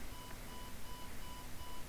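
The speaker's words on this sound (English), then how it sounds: "What is this alarm?" An alarm in the Fusion reactor game beeps faintly and evenly, several short tones repeating at a steady pace over a constant background hiss.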